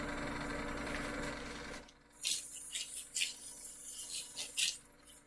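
Short rubbing strokes of 1000-grit sandpaper on a wood-turned shaving brush handle, a series of soft hissing scrapes in an uneven rhythm, close by, after a steady low hum cuts off.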